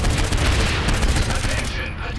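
Saints Row IV gameplay brings a dense fusillade of gunfire and booming explosions, loud and continuous for about two seconds, with game sound filling the clip.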